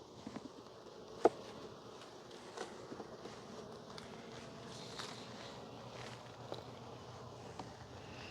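Honey bees packed solid in a hive around the brood, building out wax, hum in a dense, steady buzz with faint rustling and a few soft knocks from handling the frames.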